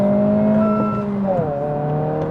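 A Honda Civic Si accelerates hard, its engine note climbing in pitch before dropping sharply at a gear change and pulling again, heard loud and close from inside the car.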